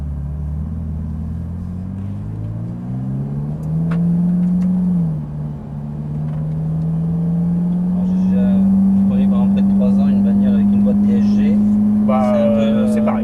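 A Ferrari 458 engine on a race circuit drones and climbs steadily in pitch as it accelerates, a deep rumble building louder over several seconds.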